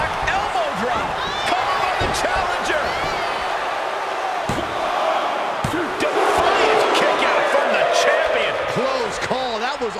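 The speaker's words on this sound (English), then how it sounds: "Ooh, yeah. The crowd's feeling it." A wrestling arena crowd in WWE 2K24 cheers and roars steadily throughout, with sharp slams and impacts from the ring punctuating the noise and a commentator's voice talking over it.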